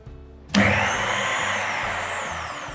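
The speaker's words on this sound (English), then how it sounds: "pulsing this for a few seconds saves you 30 minutes of trying to sift the almond flour" A food processor grinds almond flour in one pulse. The motor kicks in abruptly with a loud, close whirring roar that holds steady to the end.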